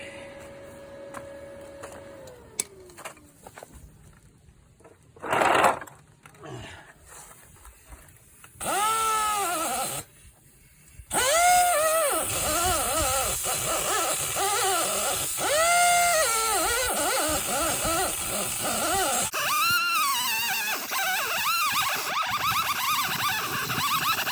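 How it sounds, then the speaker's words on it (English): A die grinder cleans up a weld on a landscape rake, with bursts of high whining grinding that rise and fall as the tool bites the metal, loud and close after a quieter start. "Get the old die grinder out after it."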